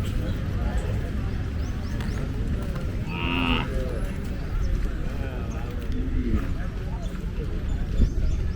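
Cow at a village cattle market, one clear moo rising out of busy crowd chatter and clip-clopping hooves, with people talking nearby throughout.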